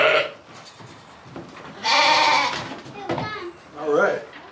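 Sheep bleat loudly on a farm while a ewe is freed from a head gate and sent back to her lambs, with several strong bleats standing out over people talking nearby.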